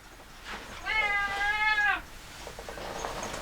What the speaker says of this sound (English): I woke up my cat, and if I don't get him out of the office, he is just going to keep crying and crying.